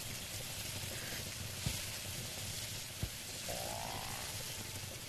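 Eggs and bacon sizzling together in a pot in the video game Yeeps, a steady low frying hiss throughout with two brief soft knocks and a faint rising tone near the end.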